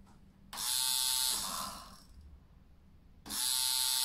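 A rotary tattoo machine runs in two loud buzzing bursts, a steady high whir for about two seconds, then a pause with a softer hum, then starting again close to the mic.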